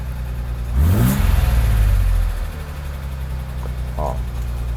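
A Mercedes-Benz R107 280SL engine idles at about 1100 rpm after a fuel distributor repair, with a low, steady exhaust rumble, briefly swelling in a short rev near the start before settling back to a smooth idle.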